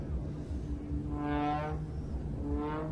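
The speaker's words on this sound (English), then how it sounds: "that's the sound of propeller going slightly supersonic." A distant aerobatic aircraft at an air show, its propeller tips going slightly supersonic, gives a harsh, buzzing, rasping whine that swells twice over a steady low engine drone.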